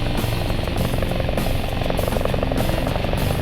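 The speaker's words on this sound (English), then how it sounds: "We prepare the helicopter for flight" Air Link medical helicopter at Medical Center of the Rockies readied for flight, a loud steady rotor and turbine roar with a rapid pulsing chop, close and continuous.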